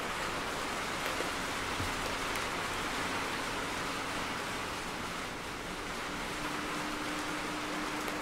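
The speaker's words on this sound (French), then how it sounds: "Il pleut même un petit peu trop là." Heavy rain falls steadily on an abandoned barn, a dense, constant hiss of drops drumming without pause, close and enveloping, with no voices over it.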